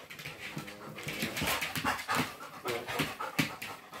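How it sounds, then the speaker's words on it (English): A playful dog pants rapidly and whimpers in quick, irregular bursts, close by and fairly loud, with no people talking. "It's a very loud bark."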